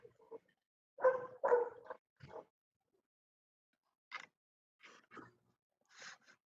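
A dog barks somewhere in the background of an online meeting, a few short yelping barks in two clusters, fairly faint and separated by silence.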